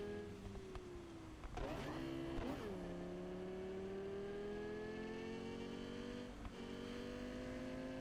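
Video game Cyberpunk 2077: a Caliburn car racing at high speed, its whining engine pitch gliding up and down through gear changes, with a few brief whooshes, moderately quiet and without speech.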